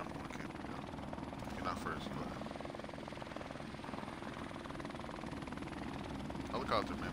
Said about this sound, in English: Friendly helicopter on the way.